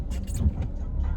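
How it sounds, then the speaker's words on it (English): Road traffic in Vancouver with cars passing at a steady rumble, a continuous low engine and tire drone filling the short stretch with no clear break. "Vancouver traffic is brutal"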